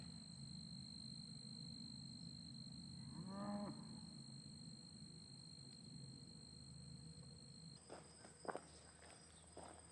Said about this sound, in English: There's some longhorn cattle.